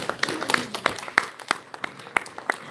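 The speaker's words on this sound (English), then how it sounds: "you can clap for them" An audience claps for the band at a jazz masterclass: scattered, moderately distant hand claps in an uneven rhythm, fairly faint, with little talk over it.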